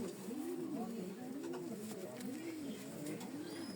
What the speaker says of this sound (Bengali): অনেক ভালো মানের কবুতর